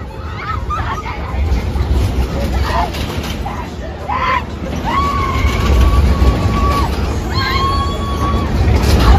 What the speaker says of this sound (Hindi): ये देखो लड़कियाँ चिल्लाने लगी